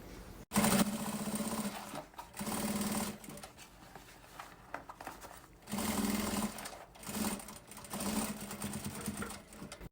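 A sewing machine runs a safety seam along a pencil case, joining the main fabric to its lining. It sounds close, in several separate bursts of rapid stitching with short pauses between them.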